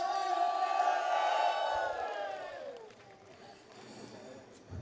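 Concert crowd in Piazza Manzoni, Jesolo, roaring and shouting together on a count of three, a loud sustained mass yell with whoops that swells for about two seconds, then fades into scattered cheering and noise.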